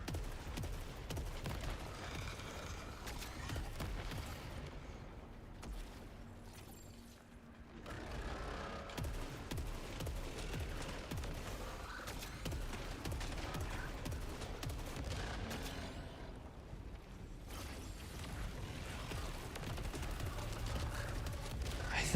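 Gunfire in the video game Saros, a steady run of shots that keeps going for most of the stretch, with dense overlapping game action. It drops off briefly in the middle, then comes back loud and continuous.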